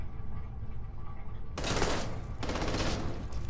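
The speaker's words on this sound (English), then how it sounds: "Who's shooting at me?" In the video game Starfield, a loud burst of automatic gunfire erupts after a low rumbling hum, rapid shots in two clustered volleys close to the listener, with no speech.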